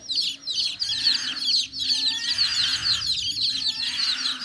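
Chickens cluck and chirp steadily alongside lively bird calls, with a low hum running underneath throughout.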